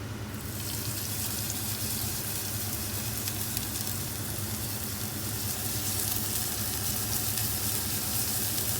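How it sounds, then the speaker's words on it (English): Ginger and spring onions fry in hot oil, giving a loud, steady sizzle that runs unbroken from start to finish with no voices. "Okay, I'm going to fry off the ginger first."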